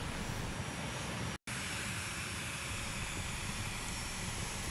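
An A-10 jet painted in P-47 Thunderbolt heritage livery arrives at a flight line exercise. Its engine roar is loud and continuous, with a steady broadband rush that fills the whole clip apart from one very short dropout.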